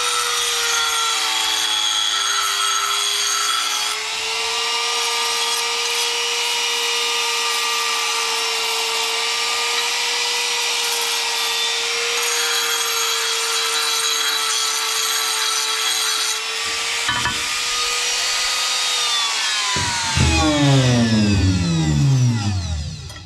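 Grinding metal smooth while deburring on a farm, likely an angle grinder: a loud, steady high whine with a constant tone runs about twenty seconds, then winds down in falling sweeps near the end, with no talk.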